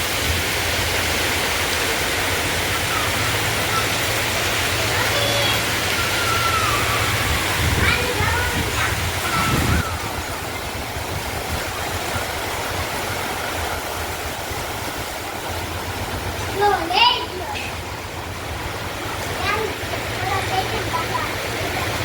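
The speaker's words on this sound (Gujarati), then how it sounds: "મંડ્યો ચાલુ થઈ ગયો વરસાદ" Heavy rain pours steadily outside during a Gujarati family's stormy day, a dense continuous hiss with road water running, alongside a low hum and brief knocks, with people talking at times.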